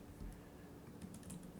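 Keystrokes on a computer keyboard tap quietly and irregularly over a low background hum for under two seconds, with no other sound standing out.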